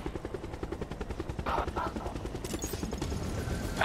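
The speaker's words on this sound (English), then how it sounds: "Helicopter." A helicopter's rapid rotor chop pulses throughout a Call of Duty: Black Ops Cold War match, steady and fairly close, with bursts of game effects layered over it and no clear speech.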